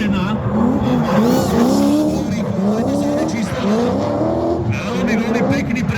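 A race car runs through a zone of the Pezinská Baba hill climb, its engine droning loudly and continuously with rising and falling revs and some tire squeal, while a commentator talks over it.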